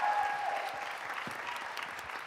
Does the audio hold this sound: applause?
yes